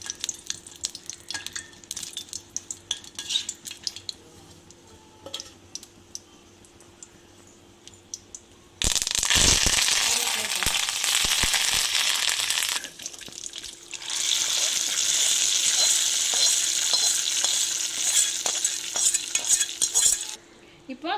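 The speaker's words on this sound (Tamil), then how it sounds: "தேங்காய் எண்ணெய் கொஞ்சம் ஆட் பண்ணி அது காஞ்ச உடனே இந்த காஞ்ச மிளகாயை போட்டு வறுக்கிறோம்" Dried red chillies frying in coconut oil in a pan, a loud crackling sizzle that bursts in, pauses briefly, then resumes with stirring clicks, close by and without talk.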